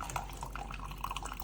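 Coffee overflowing from the top of an Instant Pot K-Cup compatible single-serve coffee maker, a steady liquid splashing and dripping sound with small trickling spatters, fairly faint and continuous.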